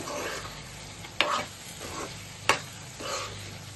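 Spices, turmeric and chili powder, stirred into cooked chana dal and prawns in a pan for a Telugu prawn curry, with a steady soft sizzle and scraping strokes plus two sharp spoon knocks against the pan.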